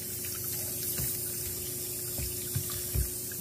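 Water flows steadily into a Bosch dishwasher as it fills, with a continuous rushing hiss, a low pump hum and occasional soft splashes and knocks, close and without talking.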